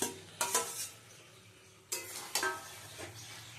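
Fried potatoes and okra are tipped into a spice masala in a pan, bringing a few sharp clatters and scrapes of utensils against the pan over a quiet, faint sizzle.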